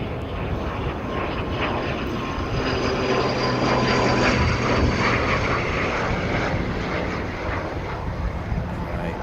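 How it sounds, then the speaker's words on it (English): An ATR turboprop aircraft passes at a planespotting mound on Harewood Road, its broad propeller and engine roar loud and steady throughout, swelling slightly midway, with cold southerly wind in the background. "So here's our first aircraft"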